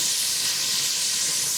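Mirepoix frying in fat in a soup pot gives a steady, bright hiss and sizzle, loud and continuous with no breaks, with no voices over it.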